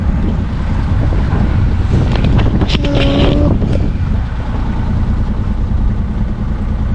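Wind buffeting a sailboat at sea, loud and constant rushing noise across the mic with water and hull sounds, a brief tonal squeak midway, no talk over it.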